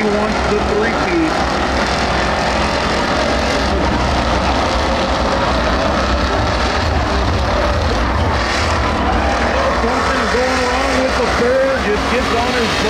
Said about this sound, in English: Gets on his brakes and comes to a halt and gets rear-ended.